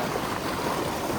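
Icy mountain river water rushing steadily in the Pyrenees, a dense, continuous close-up flow with no pauses.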